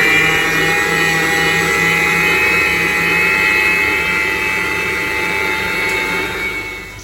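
An INALSA stand mixer runs steadily on its first speed, a continuous whirring motor hum with a high whine that holds at an even level for several seconds with no talking.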